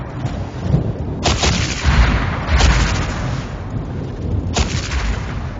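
Torpedoes launched in a space combat video game: three heavy, booming bursts spaced a second or two apart rise over a constant rumbling bed of engine and ambient noise, with no voices.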